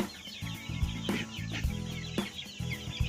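Native Thai chicks in a brooder under a heat lamp cheep in quick, high chirps from close by, repeated over a low steady hum, with no voices.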